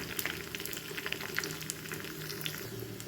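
Curry leaves and urad dal frying in hot tempering oil for a jackfruit curry, a steady close sizzle with scattered crackles and pops throughout, no voices.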